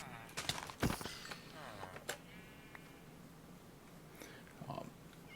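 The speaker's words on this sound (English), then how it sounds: "Oh, I got cats now." Cats meow in a survival video game village, a few short mewing calls amid faint footsteps and scattered game effects, fairly quiet overall.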